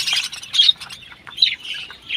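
Caged colony pet birds squawk and chirp in quick, bright, close bursts, with several calls overlapping in short, rapid bouts.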